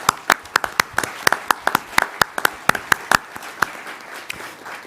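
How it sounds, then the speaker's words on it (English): An audience at a maritime symposium claps in sharp, distinct claps that are fairly close and sparse, thinning out toward the end. "I hope you can join me with a round of applause"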